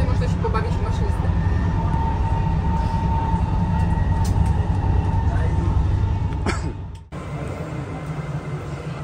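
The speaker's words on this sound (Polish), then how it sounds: "Jest to zupełnie bezzałogowy pociąg, obsługiwany zdalnie." A driverless, remotely operated Copenhagen metro train running above ground: a steady, loud rolling rumble heard from inside the car, with a brief sharp drop and a quieter stretch near the end.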